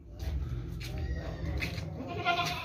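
Healthy billy goat on a livestock sale lot, bleating faintly amid steady outdoor background noise, with no clear talk over it.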